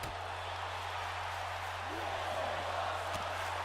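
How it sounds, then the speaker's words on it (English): A wrestling arena crowd in WWE 2K19 roars in a steady, uniform wash of cheering and chanting, with a low electrical hum underneath. "Crowd chanting, "This is awesome.""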